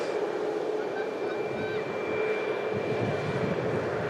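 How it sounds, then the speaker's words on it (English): A leased airliner operated by SmartLynx passes at an airport, giving a steady, broad engine roar that holds at the same loudness throughout, with faint higher tones riding over the rumble. "This is the leased VMAX aircraft."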